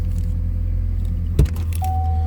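A 1988 Ford Thunderbird Turbo Coupe with a 2.3 liter turbo engine idles smoothly, a steady low rumble close by, with a brief metallic clunk partway through and a faint high whine near the end.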